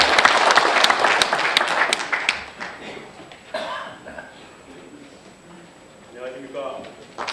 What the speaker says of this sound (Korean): 여러분 박수로 환영해 주시기 바라겠습니다.